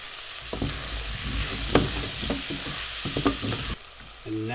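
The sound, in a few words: chunk of butter sizzling with vegetables in a pan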